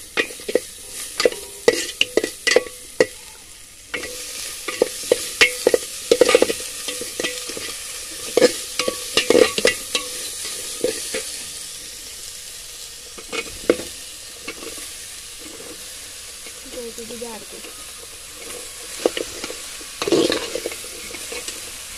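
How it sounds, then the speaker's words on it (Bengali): Washed, cut taro stems fry in a pan with dried fish, a constant sizzle broken by frequent clattering stirs and spatula scrapes against the pan, close by. "এখন দিয়ে দেব কেটে ধুয়ে রাখা কচুর ডাটা"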